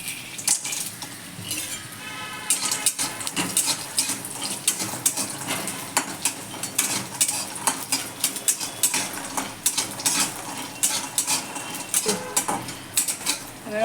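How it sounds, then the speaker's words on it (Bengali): Sun-dried lentil dumplings (bori) frying in hot oil in a wok, a steady close sizzle broken by frequent clinks and scrapes of a spatula against the metal. "তেলটা গরম হয়ে গেছে, এখন বড়িগুলো দিয়ে ভেজে নেব।"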